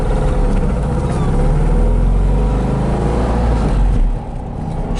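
A 1965 Porsche 356C on a drive, its engine droning loudly with a deep low rumble and rising revs, then easing off near the end as the sound drops in level.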